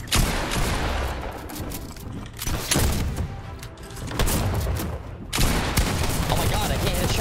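Pump shotgun gunfire from a video game comes in heavy, booming blasts among a barrage of rapid shots and thuds, loud and close, mixed with excited talk over the action.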